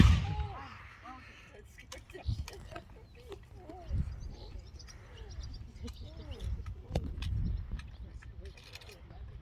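Musket and rifle volleys at Fort George, sharp reports landing around 2, 4 and 7 seconds over a steady outdoor rumble, with birdsong and distant chatter from a crowd in between.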